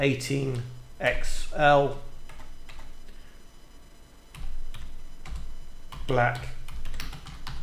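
Quick bursts of typing on a computer keyboard for entering a product name in business software, clicking keys near the microphone between stretches of someone talking.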